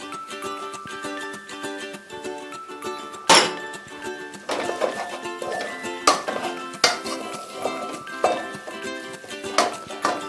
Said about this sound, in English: First, I'm gonna add in the zucchini because I don't want them to be soggy.